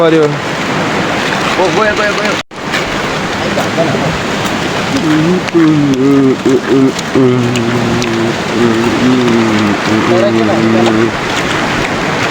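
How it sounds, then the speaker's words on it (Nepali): Steady rain falls loudly outdoors at a market, a constant wash of noise underneath people talking and singing. "Rain is falling छम छमा छम"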